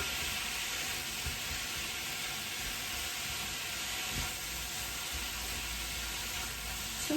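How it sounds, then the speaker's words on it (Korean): Radish stir-frying in a pan with ground raw perilla seeds, a steady soft sizzle and hiss that runs evenly throughout, fairly quiet and close, with no talking. "이제 들깨도 한 큰술에서 두 큰술 정도 넣고 같이 볶아주면 됩니다."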